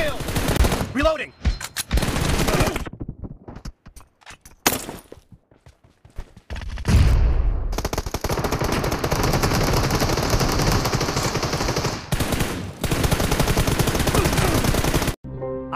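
Rapid gunfire in the battle royale shooter PUBG during a Domination team match, with dense sustained bursts that run loud and continuous through the latter half after scattered earlier shots and brief quiet gaps.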